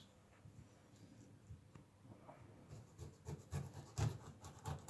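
A knife cuts thin strips of peel from the sides of a pineapple, giving soft rubbing, rasping scrapes that get louder toward the end in short close strokes.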